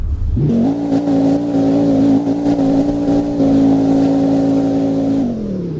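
Car engine revving in a Roblox driving game, a steady loud droning rev held at constant pitch for several seconds after a quick rise, then dropping off at the end, heard alone.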